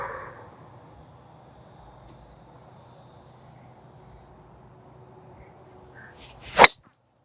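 A golf club swing strikes the ball on a fairway, giving one sharp, loud crack near the end after several seconds of quiet outdoor ambience.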